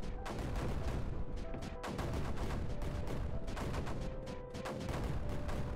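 Mortar fire in the strategy game Creeper World 4 forms a dense, continuous barrage of overlapping booms and cracks, with rapid repeated shots layered over a steady loud bed of game noise.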